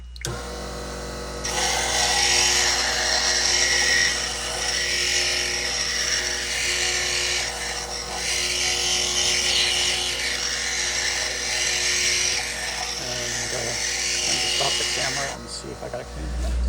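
A jade bead being ground on a 400 grit abrasive, a continuous high whirring hum with gritty buzzing that varies slightly as the stone is worked, close and steady for the whole stretch.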